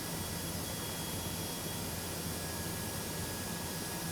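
A CFM jet engine from a Prepar3D flight simulator sound pack produces a steady, even whine and rushing hiss that holds constant throughout, moderately quiet and without pause.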